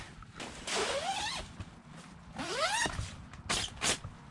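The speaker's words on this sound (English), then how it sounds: "the zippers feel satisfyingly solid and operate smoothly" A Gazelle T3 tent zipper is pulled in two smooth rising strokes, followed by a couple of quick short tugs, close and fairly quiet.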